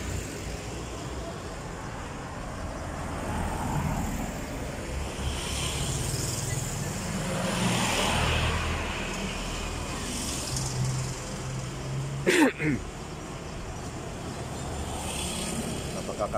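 Steady roar of passing vehicles on a highway, a continuous broadband wash of traffic rising and falling as cars go by, with one sharp clatter near the end.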